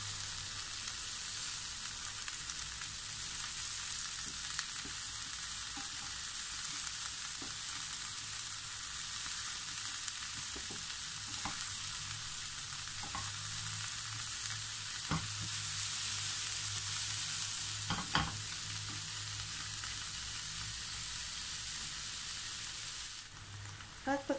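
Broccoli, cauliflower, carrot and green peas stir-fried in a pan, a steady broad sizzle with intermittent clicks and scrapes from stirring, close and continuous throughout, briefly swelling louder near the end.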